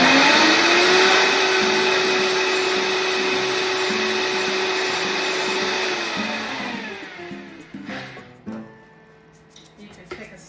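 A Vitamix-style blender whirs on a low setting while making basil pesto: a steady, loud motor whine with a constant pitch for about six seconds, then it winds down and stops, leaving a few faint clicks.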